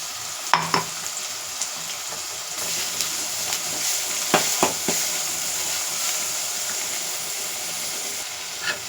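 Ground garlic paste sizzling and being stirred in hot oil, a continuous frying hiss broken by several sharp scraping clicks of a spoon against the pan.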